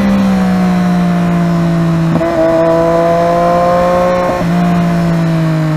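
A Triumph Daytona 675 sport motorcycle pulls hard through city traffic, its engine note rising steadily through two quick gear changes with brief dips between, loud and close throughout with no talking.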